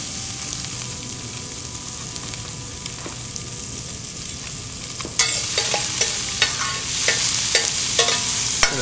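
Sliced garlic and onion dropped into olive oil in a pan sizzle steadily, then a burst of sharp clatters and stirring scrapes joins the frying partway through, close and fairly loud.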